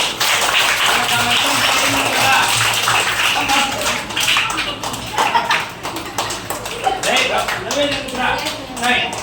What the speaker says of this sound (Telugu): క్లాప్స్ కొట్టారు అందరూ.